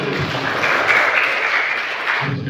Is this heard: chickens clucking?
no